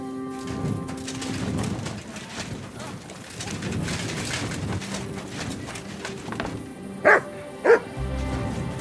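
A dog barks twice in quick succession near the end of a Kingdom Come Deliverance II scene, sharp and fairly close, after a stretch of ambient birdsong and soft background murmur.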